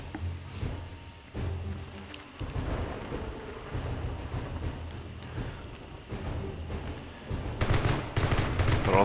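Sustained automatic gunfire rattles from weapons in the zombie survival video game 7 Days To Die, with dense rapid bursts blending into a rumbling, continuous din.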